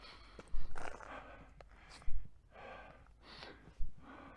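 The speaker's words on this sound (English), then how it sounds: "Breathing a little bit heavy" Heavy breathing of a hiker at Valley of Fire State Park in Nevada, near the Beehive rock formation: several quiet, close breaths, gasping inhales and exhales in an uneven rhythm with pauses between.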